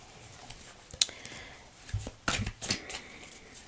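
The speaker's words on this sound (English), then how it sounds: "I'm going to shuffle again" Playing cards are shuffled in a few quick riffling bursts, close and fairly soft, with brief pauses between.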